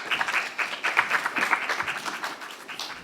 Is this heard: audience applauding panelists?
yes